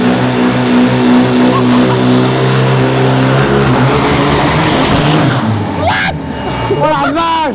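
A diesel drag racing car with a big turbo roars past at full throttle at a Thai drag race, a loud sustained engine blare with rising whine near the end, crowd noise and excited voices around it.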